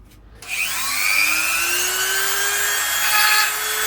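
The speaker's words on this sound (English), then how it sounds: "I'm going to try one of these wood carving bits in and just see if we can chip away" A high-pitched rotary tool with a wood carving bit whines up and runs steadily, chipping at rock with a rasping, scraping edge.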